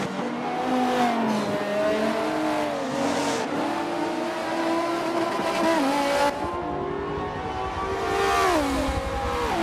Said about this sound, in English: as Sophitia goes through the last turns,